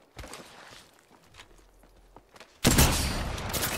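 Gunfire in Apex Legends, a few faint scattered shots and footsteps at first, then a sudden loud burst of rapid sustained firing that continues to the end.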